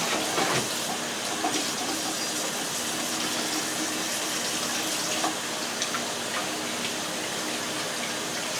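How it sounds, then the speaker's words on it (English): A kitchen tap running while hands are washed, a steady, fairly loud hiss of flowing water with faint splashes and no speech. "let me just wash my hands."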